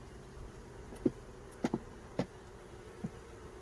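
Honey bees on a hive frame give a faint, steady hum, with a few short louder buzzes as single bees pass close by.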